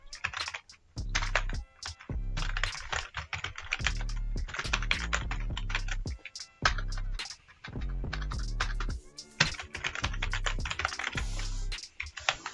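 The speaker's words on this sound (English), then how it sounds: "type your company name" Company name being typed into a Microsoft Word document on a computer keyboard: close, loud bursts of rapid key clatter broken by short pauses, with no voices.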